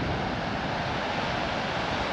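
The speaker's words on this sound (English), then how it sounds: "shame about the wind" Strong wind blowing at a scenic viewpoint, a loud continuous roar buffeting the microphone without a break and drowning out any other sound.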